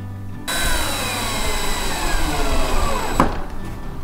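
A power driver whirs steadily as a screw is driven into a wooden chicken coop panel during Leghorn cottage assembly, starting abruptly, running for about three seconds and ending with a brief clunk.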